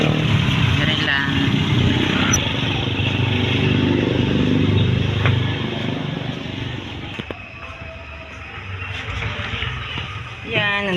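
A motorcycle engine drones steadily through a ride to a shop on a hot day, its low hum rising and falling at moderate distance beneath people talking over it.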